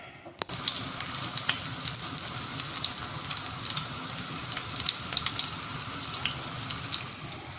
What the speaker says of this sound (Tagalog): So, maglagay na ako dito sa kaldera ng sibuyas at bawang.